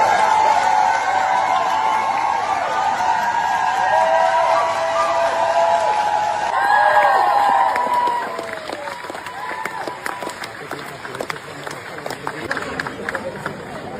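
A crowd welcomes an Australian doctor back from Gaza with applause. Talk and crowd noise fill the first half, then scattered clapping and cheering continue at a lower, uneven level.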